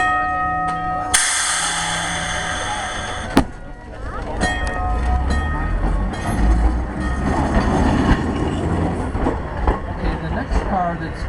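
Los Angeles Railway 3001, the first streamlined PCC streetcar, rolls past in a trolley parade at a rail festival with loud rumbling and clattering wheels. A bright bell-like tone rings early, and crowd voices sound in the background.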